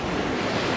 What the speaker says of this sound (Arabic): صوت الموج مرعب.